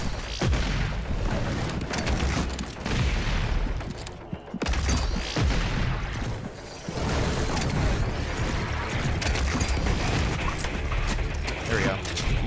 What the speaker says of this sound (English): Mouse 3, the launcher grenade.